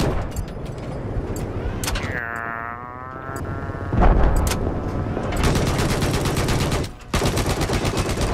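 Gunfire in the video game Battlefield 4 tears at a wall in close-quarters play, loud rapid automatic bursts with sharp impacts and a ringing metallic boing, continuing under game effects with little pause.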